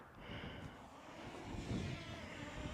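A DJI Mini drone hovers in gusty wind outdoors, a steady faint whirring drone buzz mixed with soft wind rumble at a distance, continuous and low in level.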